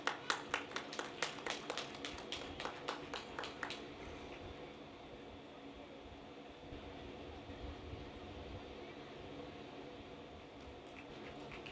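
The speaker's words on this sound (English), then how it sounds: "Please give another round of applause." At a university commencement ceremony, a few seconds of clearly spaced claps ring out near the start, then give way to a low, steady rumble of crowd and room noise for the remainder.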